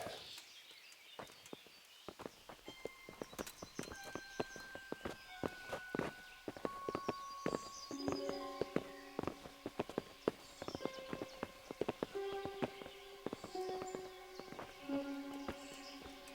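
Several horses walk in the medieval video game Kingdom Come Deliverance, their hooves clip-clopping in a steady irregular patter, close and fairly loud, under sustained musical tones.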